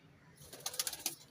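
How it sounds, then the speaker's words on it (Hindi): A few soft coos from a breeder pigeon in quick succession, close and fairly quiet, with faint fluttering around them. "किसी का ब्रीडर कबूतर है"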